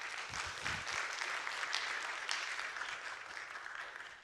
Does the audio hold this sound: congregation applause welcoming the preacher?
yes